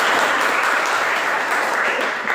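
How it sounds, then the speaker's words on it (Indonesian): Classroom applause for a student presentation group, steady dense clapping from many hands throughout, fairly loud with no talk over it. "tepuk tangan untuk kelompok 2"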